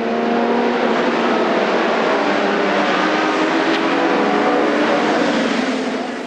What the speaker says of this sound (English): The Lotus 49s like this one were the first cars to use the 3000cc Ford Cosworth engine